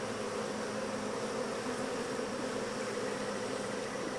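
A dense, steady drone of honey bees swarming around an open beehive during a hive inspection, continuous and fairly close with no pauses.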